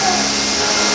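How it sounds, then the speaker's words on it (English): A household vacuum cleaner runs loud and steady with a continuous broadband roar, filling the whole moment without pause. "Riley, Daddy can't do the vacuuming when you do that."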